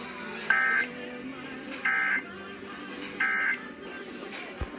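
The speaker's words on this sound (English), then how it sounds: "The following tones will conclude this test." EAS monthly test concluding tones, heard as three short repeated electronic beeps, each about a third of a second long and evenly spaced, sounding over a faint background hum.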